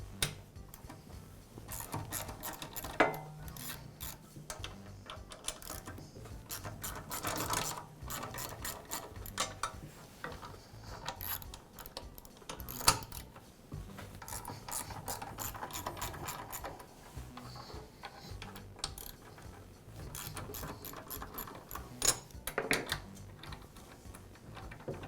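Ratchet wrench clicking while the head of a DeWALT air compressor is unbolted and removed, irregular bursts of close ratcheting and metallic clinks and knocks, with no talk.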